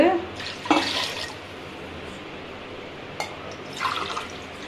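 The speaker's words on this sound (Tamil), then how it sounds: "நான் இன்னைக்கு 5 கிளாஸ் ஊத்த போறேன்" Water pours from a glass into a pot for black kavuni rice porridge in a couple of short splashing bursts. The first comes early and the second near the end, with quiet room noise in between.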